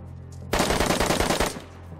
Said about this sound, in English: Here's some shots.